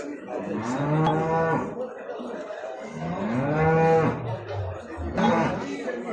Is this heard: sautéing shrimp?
no